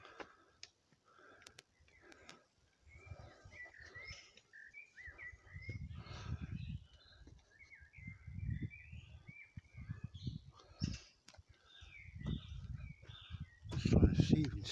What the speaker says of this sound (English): Really hear the birds singing, can't you?